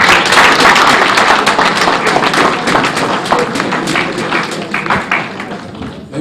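Audience applause after a speech at a Lagos State civil service career week event, a loud, dense wash of clapping that fills the whole clip and fades slightly toward the end.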